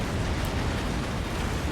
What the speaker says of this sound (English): some weird explosion sound just keeps repeating